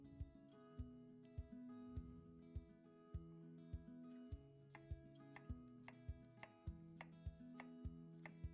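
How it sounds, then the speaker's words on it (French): An onion being finely diced with a knife on a cutting board, quick regular chopping taps in a steady rhythm, quiet and close, over faint background music. "Maintenant nous allons ciseler l'oignon"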